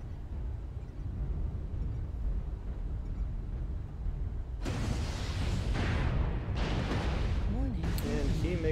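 Missiles striking near the player in a mech combat video game on a mining map, a low rumbling backdrop that gives way halfway through to loud booming impacts and crackling blasts in quick succession.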